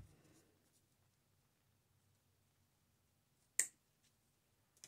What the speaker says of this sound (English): I'm going to go in with some wire cutters,